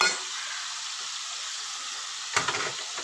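Pomfret fish fries in hot oil with a continuous bright hiss of sizzling, close and steady, flaring briefly as something shifts in the pan near the end.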